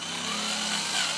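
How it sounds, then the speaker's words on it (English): A continuous high-pitched mechanical whine of a drill boring a hole, steady and close, with no voices. "we finished drilling the hole now"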